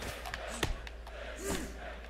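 Crowd chanting during a Fight Night Round 3 boxing video game match, a loud rhythmic roar of many voices with a sharp shout and a swelling call, close and dense.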